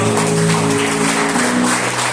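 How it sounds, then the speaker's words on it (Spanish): A church congregation applauding during an evening service, a steady, fairly loud wash of clapping with a sustained tone running underneath. "Dale un aplauso al que vive en esta noche."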